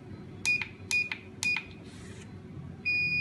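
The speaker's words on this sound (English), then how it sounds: "the sensor has a long beep prompt, means the sensor has been turned off" An HTZSAFE T705/806A wireless sensor sounds a sequence of short electronic beeps in three bursts, then a steady, longer beep tone near the end, with a low background hum throughout.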